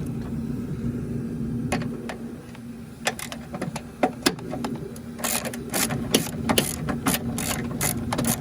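A hand ratchet turns a 10 millimeter bolt in the engine bay of a 2015-2020 Chevy Tahoe with a 5.3L engine. Rapid, close clicking bursts grow denser toward the end over a low steady hum.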